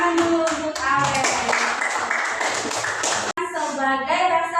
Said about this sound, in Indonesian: Tepuk tangan dulu untuk Aurel.